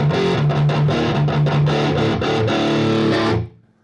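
An electric guitar through a Marshall JCM 800 tube amp plays heavily distorted chords and sustained notes, thick and saturated, ending abruptly after a few seconds.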